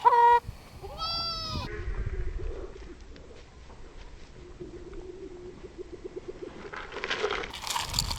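Goats on a farm bleat, with one loud wavering bleat near the start followed by softer pulsing calls, while chickens and cooing birds sound around them and rustling noise rises toward the end.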